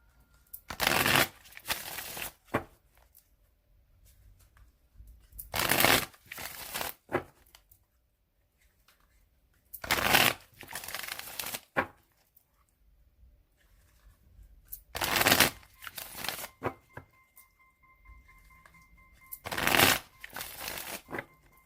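A deck of tarot cards shuffled repeatedly, with five bursts of riffling spaced a few seconds apart, with quiet pauses in between.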